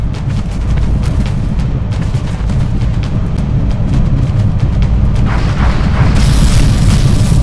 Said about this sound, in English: they're throwing the grenades at Bay there